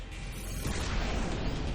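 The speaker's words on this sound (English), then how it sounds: "Boosh, basically an explosion." A magic spell explodes in the Final Fantasy X video game, a dense, sustained roaring boom with crackling bursts that rises and fills the short moment without pause.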